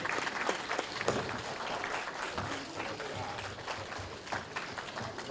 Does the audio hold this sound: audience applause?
yes